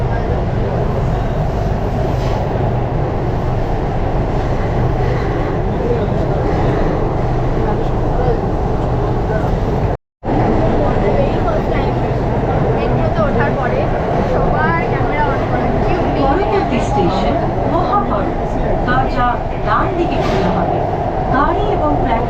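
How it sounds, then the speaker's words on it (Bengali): Kolkata Metro train running underground just after leaving Esplanade station, a loud continuous rumble and roar that fills the whole stretch, broken by one very brief cut, with passengers talking throughout. "আমাদের ট্রেন এখন এসপ্ল্যানেড স্টেশন ছেড়ে দিল।"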